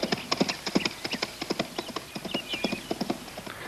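Hooves of stolen horses clip-clop in a quick, steady gallop on hard ground, moderately near and continuing throughout without voices.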